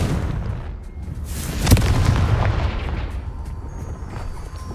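A fiery Confringo blast spell goes off in Hogwarts Legacy: a single sharp crack followed by a roaring, rumbling burst that slowly fades.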